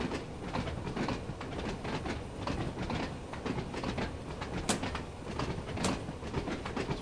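A train coasting along the Isle of Wight Line in Train Sim World, with a continuous rolling rumble and rhythmic clickety-clack of wheels, plus two sharp high squeals, steady and close throughout.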